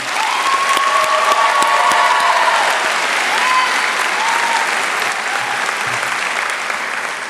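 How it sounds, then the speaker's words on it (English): Sustained loud applause from the crowd at the 2019 Dunkirk High School graduation in Dunkirk, NY, honouring class advisors; dense clapping with a few cheers near the start, continuing evenly throughout. "A big round of applause for the class of 2019 advisors, Ms. Charmaine Moreland and Ms. Kelly Mancus"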